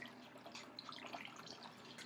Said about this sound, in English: I'm just pouring it in a funnel into